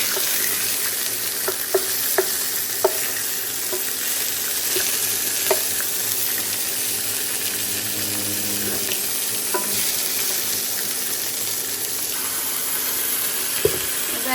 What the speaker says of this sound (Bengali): একদমই হালকা এপিট পিপিট করে 1 মিনিট হালকা ভাজা